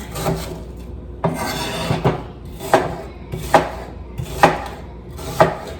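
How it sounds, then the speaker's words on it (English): Steady knife chops on a cutting board slicing onions, about one firm thunk per second, close and clear with a faint scraping between strokes. "I could just listen to the sound of chopping like all day."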